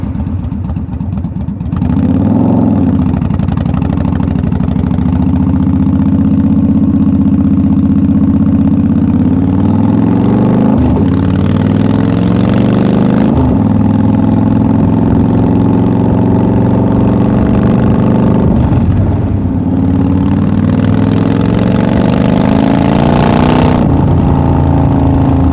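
A motorcycle engine and exhaust, captured from a recorder worn on the rider's back, rumbles loudly and steadily while riding, with several rising and falling swells as the throttle changes.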